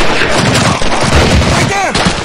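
A dense barrage of gunfire and booming blasts in Medal of Honor Pacific Assault, loud and continuous at close range, with battlefield shouting mixed in.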